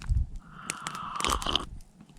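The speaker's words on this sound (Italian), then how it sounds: "Questi aghi me li smangiucchio pure un po', giusto qualche morso." Pine needles chewed outdoors in the wild: a few close, crisp crunching bites and chewing sounds, brief and irregular, with soft mouth noises between them.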